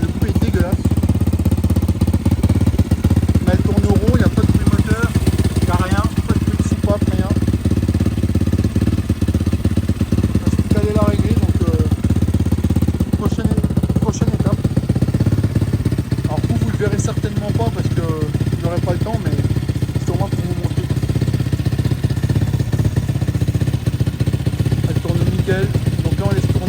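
An Apollo RFZ motorcycle engine idling low after a service, a loud steady clattering rumble held for the whole stretch, with someone talking over it.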